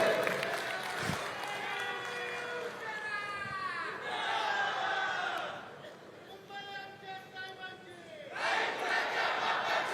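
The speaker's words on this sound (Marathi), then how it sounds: "माहीमच्या लोकांचा आवाज ऐकू द्या, टाळ्या वाजून ऐकू द्या" A large crowd at a Worli political rally in Mumbai cheers, shouts in unison and claps, with swelling waves of voices and applause that rise and fall across the stretch.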